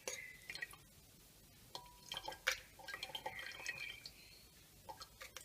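Wildflower tea drains out of a mass of pressed herbs in sparse wet drips and trickles, with a few brief splashy bursts spread across a quiet background.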